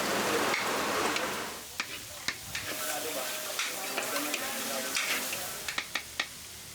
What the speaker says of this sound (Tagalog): paglagay ng hiniwang laman loob ng baka